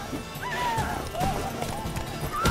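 Horse hooves and whinnying in the Witcher 3 video game, with a rising and falling neigh over clopping steps and busy game sounds, moderately loud.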